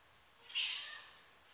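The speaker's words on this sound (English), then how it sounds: "This is our cat, Iggy." A female cat just over a year old gives a single short, clear meow close by, rising and fading within about a second against a quiet background.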